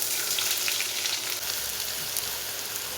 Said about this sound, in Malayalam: അതിനുശേഷം നമ്മൾ അരിഞ്ഞു വെച്ച വലിയ ഉള്ളി ഇതിലേക്ക് ഇട്ട് കൊടുക്കാം.